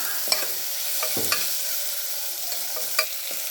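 Ripe tomato sautés in oil in a pan for cauliflower kuruma, a steady close sizzle broken by a few scattered stirring scrapes and light taps against the pan.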